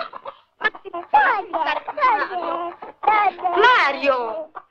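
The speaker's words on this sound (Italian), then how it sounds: "Ci manca pure la gallina dentro casa." A hen clucks inside a house, a run of loud, close, throaty clucks and squawks in uneven bursts with short pauses between them.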